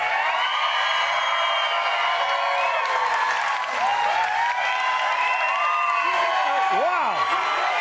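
A big crowd at a Trump rally in South Texas roars continuously with applause, cheers and whistles, loud and dense throughout, with individual shouts rising above the steady din.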